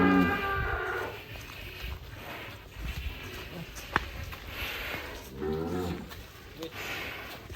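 A cow moos loudly at a cattle show, with a low bellow early on and another drawn-out call later, heard over a murmuring crowd and nearby talk.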